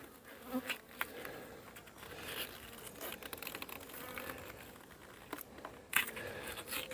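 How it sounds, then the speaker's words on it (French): Honeybees around an open hive during a honey harvest hum and buzz softly and continuously, with occasional crinkly rustles and small bursts of activity, fairly close but quiet overall. "les abeilles retombent dans la ruche"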